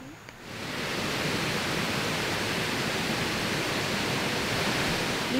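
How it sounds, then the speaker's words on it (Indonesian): Heavy water pours down at Malanghit waterfall, a loud, dense, unbroken roar that rises within the first second and then holds steady and close. "akhirnya kami sampai di air terjun Malanghit"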